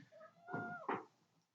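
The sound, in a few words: cat meowing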